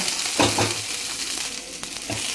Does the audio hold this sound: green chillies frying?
yes